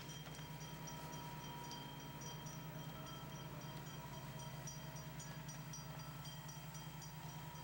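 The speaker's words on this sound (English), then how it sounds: "This is the railroad that runs through our village." A train passes on the railroad running through a village, a faint, distant, steady rumble with a low hum and soft rhythmic rail clatter, continuous throughout with no voices.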